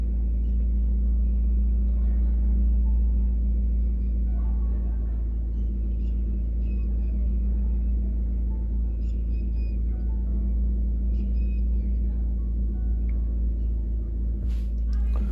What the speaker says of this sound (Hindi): कितनी कुछ आवाज़ जो है गाड़ी में आ रही है